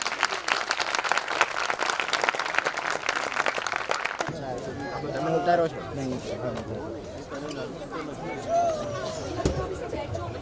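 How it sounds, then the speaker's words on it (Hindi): An audience at a children's camp session in Mandvi, Gujarat claps for the children for about four seconds, then the clapping stops and crowd chatter and murmuring voices carry on. "बच्चों का स्वागत, जोरदार तालियां।"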